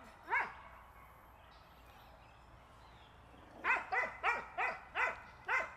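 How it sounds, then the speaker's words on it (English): An American Pit Bull Terrier barks once, then after a pause lets out a rapid series of six sharp, fairly close barks in a quiet yard. "Anime have the most annoying bark ever."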